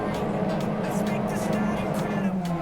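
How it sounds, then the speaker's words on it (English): A dense engine drone hums steadily with rising revs from several Skip Barber club championship race cars at the start of a round, loud and close, under a voice talking over it. "Those engines are now revving"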